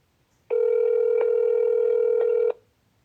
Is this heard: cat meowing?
no